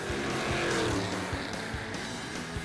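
A 1969 Pontiac Firebird drag race car accelerating hard in second gear: a steady, loud engine roar with tire noise and rumbling low pulses, continuous throughout.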